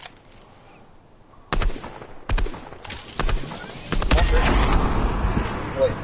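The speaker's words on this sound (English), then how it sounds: "they're shooting at us now" Gunfire crackles in a shooter video game where a railgun is in play, with separate sharp shots that build into dense, sustained volleys of fairly loud fire.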